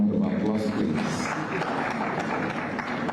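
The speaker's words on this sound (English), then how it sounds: "let's give him another round of applause" Audience at a town hall meeting applauds in a steady, moderately loud round of clapping that carries on throughout, with a voice heard faintly at the start.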